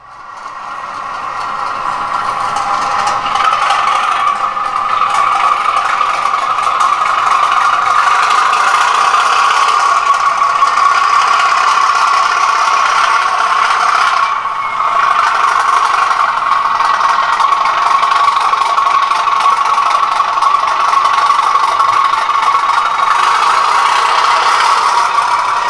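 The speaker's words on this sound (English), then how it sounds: "1306 is a fictitious English electric locomotive with its characteristic engine growl" A model railway's fictitious English Electric diesel locomotive produces a steady, droning engine growl with a faint rattling edge, holding at a constant level for a long stretch with only a brief dip midway.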